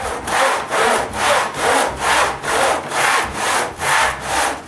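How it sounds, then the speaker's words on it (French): A handsaw cuts wood pieces to length while a new workshop is built. Its rhythmic back-and-forth rasp comes in about nine even, close, loud strokes, with no talking. "Ensuite, je coupe les morceaux aux bonnes longueurs."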